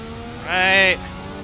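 Formula 1986 V6 race car in a racing sim video game, a single short engine rev that rises and falls in pitch within about half a second over a steady low drone.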